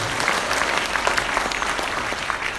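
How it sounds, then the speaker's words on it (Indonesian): Audience at an Indonesian iftar gathering (bukber) applauding a speaker, a full, continuous clapping wash at steady loudness with a little crowd murmur and no speech. "tepuk tangan buat Dokzi."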